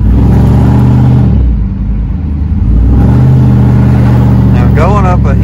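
A truck with its catalytic converters removed drones loudly as its engine revs, a heavy low rumble that briefly dips and then swells again, with a voice talking over it.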